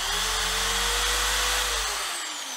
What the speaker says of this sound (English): now I'm gonna use the drill bit and kind of hold sideways on it